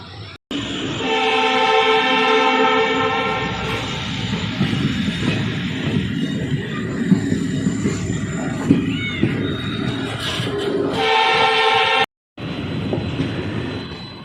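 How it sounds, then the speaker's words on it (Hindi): The 12527 Ramnagar–Chandigarh Weekly Superfast Express leaves Pipalsana station. Loud, sustained horn blasts sound at the start and again near the end, with the heavy rolling rumble of the wagons running throughout. "पीपलसना से डिपार्चर होती हुई ट्रेन"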